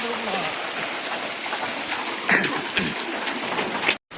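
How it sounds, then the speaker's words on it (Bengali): Steady heavy rain drums on a small tin roof in a village, a dense continuous hiss with a few louder patters, ending in a brief cutout. "আবার বৃষ্টি চলে এলো, আবার কমবে"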